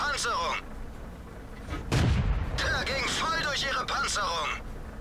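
Tank guns firing in the World of Tanks video game, with a Caernarvon heavy tank and a Panther in play. A deep boom sounds over game audio and music, and someone talks throughout.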